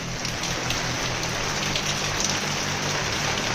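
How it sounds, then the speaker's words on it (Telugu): Steady rain falls outdoors in a dense, continuous hiss of drops striking surfaces, loud and even throughout with no voices. "వర్షం అయితే పడుతుంది"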